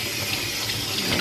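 Tap water runs steadily from a faucet while a Cavalier King Charles Spaniel is rinsed during a bath, a close, continuous splashing hiss with no voices.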